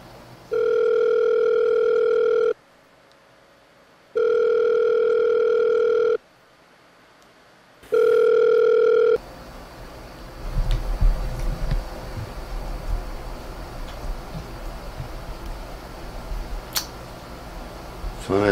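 A ringback tone sounds on a phone call, with three evenly spaced beeps separated by silences, then the call drops into soft background noise with light handling sounds.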